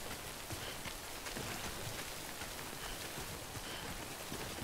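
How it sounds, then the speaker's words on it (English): Steady rain hissing down in the video game Death Stranding, a dense, even downpour with scattered droplet patter, continuous and fairly close with no voices over it. "Can't stay in the rain too long."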